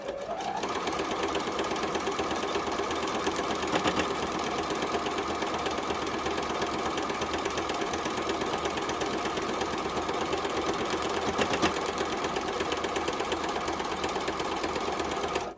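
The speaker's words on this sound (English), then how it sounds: "let's head up to the sewing machine and stitch that down" A sewing machine stitches down a section of a Halloween wall hanging, running in a steady, continuous whir close by for the whole stretch with no pauses.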